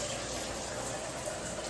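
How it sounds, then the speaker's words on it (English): Shower water runs steadily during a test after installation, a constant broadband hiss with no breaks, moderately quiet and with no voices. "Okay, let's test the shower."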